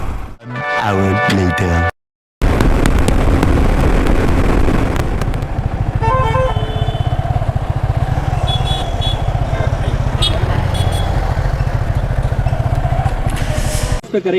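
A motorcycle rides along a road at about 60-70 km/h on the way to the Sirsi fair. A loud, steady engine and wind roar fills the clip, with a brief cut near the start and faint horn-like tones later.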